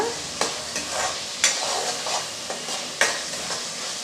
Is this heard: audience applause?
no